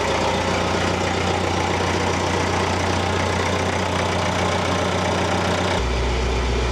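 An old tractor's engine runs at idle, a loud, close, steady diesel-like drone with a rhythmic knocking pulse that shifts to a deeper tone near the end, with no voices.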